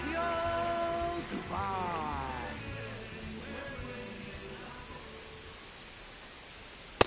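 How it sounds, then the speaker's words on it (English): Steady rain hisses down over a baseball stadium in MLB The Show 26, a constant wash of noise under a commentator's talk, fading slightly before one sharp click at the end. "This rain is not letting up"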